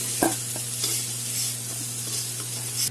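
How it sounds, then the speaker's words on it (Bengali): Potatoes fry in a pan with steady sizzling and crackling oil, broken by a few stirring scrapes, heard close over a low steady hum. "আলুটা ভেজে নিচ্ছি।"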